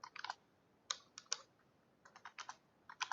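Quick bursts of keystrokes on a computer keyboard in a quiet room, short clustered clicks separated by brief pauses, close and soft.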